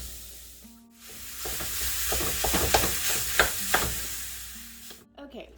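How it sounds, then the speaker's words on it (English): Very lean ground beef frying in a pan gives a steady, close sizzle, broken by several sharp scrapes and clacks of a utensil stirring the meat, with a low hum underneath. "we are gonna stir the meat real quick"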